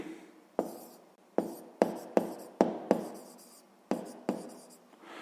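Pen writing on paper while a sixth-grade maths exercise is worked out: a series of close, crisp scratching strokes, about ten quick marks each starting sharply and trailing off, with no talk.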